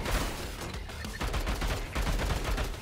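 A turret in the shooter game Bunker Punks fires, a loud, fast string of gunshots hammering almost without pause, punchy and close, with heavy low thumps under a dense rattle.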